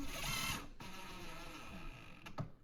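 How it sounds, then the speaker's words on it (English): A power drill driving screws to fasten the side of a new kitchen base cabinet to the adjacent cabinet: a steady motor whir that cuts off briefly, then a short final burst, close and alone. "And then I'm just screwing the side to the other cabinet"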